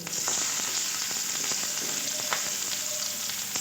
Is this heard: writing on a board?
no